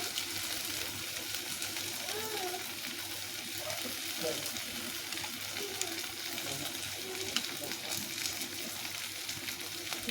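Mustard and green chili paste frying in a pan for a Bengali mustard dish, a soft steady sizzle with some stirring, low and continuous under light background noise.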